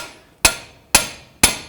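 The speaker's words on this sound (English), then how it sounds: "Put it in here, hammer it in," Three evenly spaced, sharp metallic hammer blows drive a pickle fork into the front ball joint of a 2009-2015 Toyota Prius, loud and close, each ringing briefly before the next.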